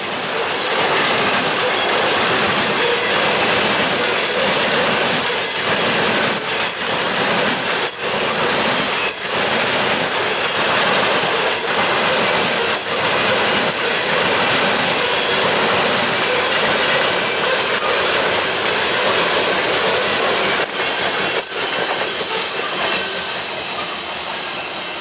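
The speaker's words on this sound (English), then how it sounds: "So let's get the rest of the grain train" A freight grain train rolls past on a railroad line, wheels clacking rhythmically over rail joints with occasional squeal and hiss, loud and continuous throughout with no voices.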